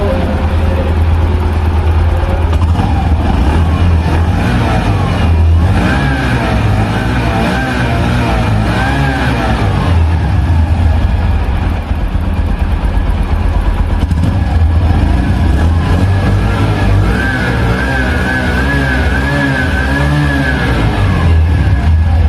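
A 110 cc commuter motorcycle engine runs close and loud, idling steadily and then revving up and back down several times, its exhaust note droning throughout with no talk over it.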